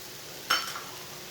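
A spoon stirs black-eyed pea curry as it sautés in a pan, giving one brief scraping sizzle over a quiet background.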